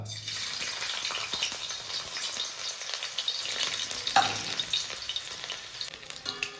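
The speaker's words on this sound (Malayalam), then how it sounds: "വെളിച്ചെണ്ണ ചൂടായിട്ട് നമുക്ക് ഇഞ്ചി ഇട്ട് കൊടുക്കാം കേട്ടോ." Ginger sizzles in hot coconut oil left over from frying chicken, a steady close hiss and spatter that flares with a brief sharp burst midway before settling back.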